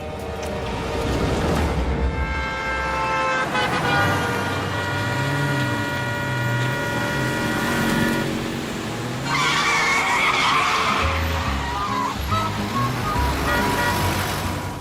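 Voices in a Hindi animated cartoon mimic traffic noises, with honk-like tones, skidding squeals and rumbling engine sounds layered in a busy, continuous stretch that shifts in character partway through.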